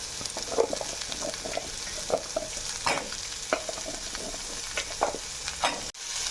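Pieces of yellow pumpkin fry with sautéed onions in a pan for a Tamil pumpkin poriyal, giving a steady close sizzle broken by repeated stirring scrapes and clatters, with no talking.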